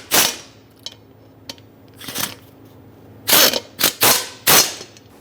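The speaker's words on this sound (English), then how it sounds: "Now use a 7/32 Allen bit and tighten up these bolts" A 7/32 Allen bit on a ratcheting driver tightens bolts while an air suspension helper spring kit goes onto a 2003-2009 Dodge RAM 2500: sharp separated clicks, then a quick cluster of loud ratchet bursts near the end.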